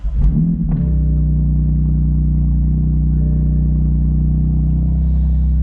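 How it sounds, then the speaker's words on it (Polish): A BMW M car with a dual-clutch DCT gearbox fires up from park: a short cranking burst, then the engine settles into a loud, steady low idle rumble that continues alone. "Odpalmy sobie samochód."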